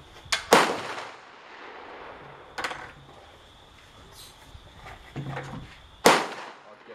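.22 gunshots at outdoor target practice: two sharp, loud cracks close together near the start, then a softer pop and a final loud report after pauses, no talking.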